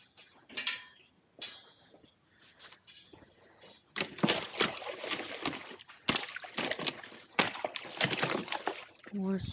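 Water sloshing and trickling while animals are tended in sub-freezing weather, bursts of swishing and splashing after a quieter start, fairly close and loud, with small clicks and rustles between.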